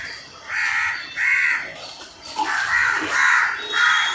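A crow cawing harshly as it attacks an eagle, five or six loud rasping caws in an uneven series, fairly close, with no other sound.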